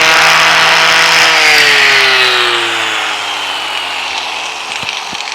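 A power sander with 40 grit abrasive grinds on a steel door of a 1932 Ford, a loud, continuous rough whine that slowly winds down in pitch toward the end.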